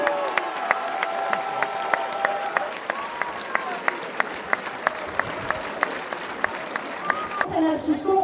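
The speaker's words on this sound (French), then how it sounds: "On l'applaudit l'entraîneur aussi" A crowd at the opening of the Soustons summer festival applauds a team's coach, clapping in an even rhythm over sustained tonal background sounds, with a brief burst of other noise at the end.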